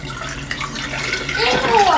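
Water is poured out in a shower while rinsing synthetic braiding hair after an apple cider vinegar soak, a splashing gush that swells louder over two seconds.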